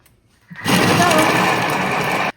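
A Thermomix kitchen machine mixing a broccoli salad starts up abruptly after a brief quiet moment, then runs as a loud, steady whirring motor drone before cutting off sharply.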